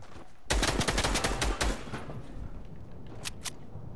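Gunfire in the video game Fortnite: a loud burst of rapid automatic shots, followed by quieter scattered rounds and a couple of sharp single reports near the end.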